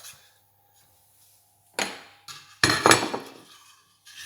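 Mustard sauce with whole-grain and regular mustard being mixed in a dish, heard as a few short scraping and clinking bursts of a spoon against the bowl, close and moderately loud, separated by quiet pauses.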